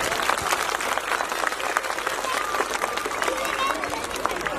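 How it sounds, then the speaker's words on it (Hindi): Audience applause at an event at GAV International School in Gurgaon, a dense, steady wash of many hands clapping throughout, with faint crowd murmur underneath. "एक बार तालियां दो"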